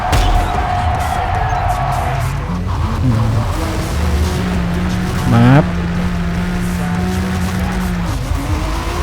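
A BMW M3 in the Forza Motorsport racing game revs and drones steadily in a low gear, with pitch sweeps, a brief tire squeal, and constant engine noise throughout.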